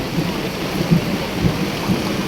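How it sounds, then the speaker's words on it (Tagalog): Steady heavy rain hisses throughout, with low rumbling thumps of thunder rolling underneath, during a thunderstorm with lightning. "Umukulog, kumikidlat dito sa Parisan ni Diwata."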